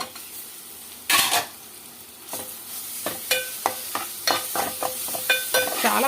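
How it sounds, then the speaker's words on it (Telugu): Browned onions fry with added masala for a mushroom curry, a steady sizzle under frequent sharp spoon clinks and scrapes against the pan. "ఇప్పుడు మనం ప్రిపేర్ చేసి పెట్టుకున్న మసాలాను కూడా వేసేసేద్దామండి."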